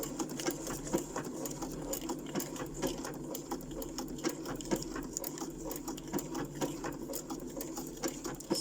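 A sewing machine stitches steadily through paper for an embellishment cluster, a close, continuous rapid needle patter with even mechanical whirring throughout.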